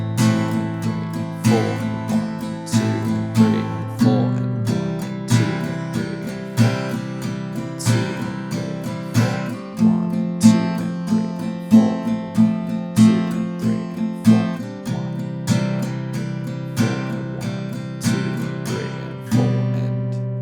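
Acoustic guitar strummed steadily through the first line of chords of a song, with rhythmic down and up strokes, accented beats and chord changes, played alone at moderate volume for about twenty seconds.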